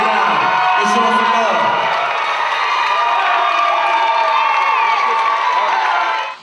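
Audience at a Chicago steppin' dance event cheering, whooping and shouting loudly and continuously, a dense close crowd roar with scattered clapping underneath.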